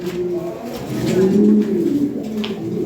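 Pigeons of a European bloodline coo loudly and steadily nearby, low sustained rolling calls overlapping in a continuous drone.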